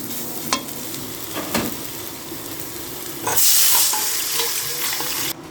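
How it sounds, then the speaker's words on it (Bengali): Ground spices and mustard paste fry in oil with a steady sizzle and occasional stirring scrapes, and the frying swells louder partway through. No one talks. "গুঁড়া মশলা আর সরিষা বাটা একটু তেলের মধ্যে ভাজি করে নেব"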